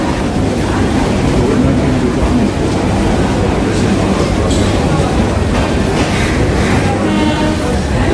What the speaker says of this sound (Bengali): অবশেষে আমাদের ট্রেন শিয়ালদা রেলওয়ে স্টেশন থেকে ঠিক তার নির্দিষ্ট টাইম অর্থাৎ 9:04 ছেড়ে দিয়েছে